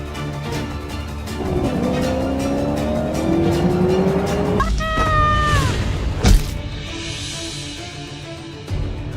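A car braking hard on a road as it strikes a woman crossing, engine roar building to a sharp rising tire screech, then a loud thud and a fading hum.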